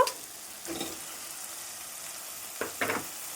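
Salted, turmeric-coated shrimp frying in a pan with onion, chilli, ginger and tomato, a quiet steady sizzle close by with a couple of brief stirring scrapes, no talking.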